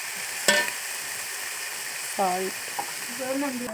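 Sorrel greens and white rice are stirred in a pan over a low frying hiss. A sharp utensil knock lands early, followed by a few scraping strokes and brief tonal squeaks.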